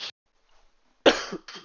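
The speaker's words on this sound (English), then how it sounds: "a little bit of a cough there" A single short cough near the start, then a pause and a burst of louder coughing or throat clearing with several quick hacks, close to the microphone.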